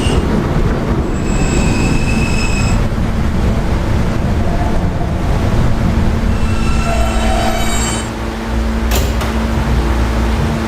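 R160 K local subway train arriving at and departing Herald Square - Grace St station: a loud, continuous rumble of rolling cars with steady low hum and recurring high wheel squeals, no talk.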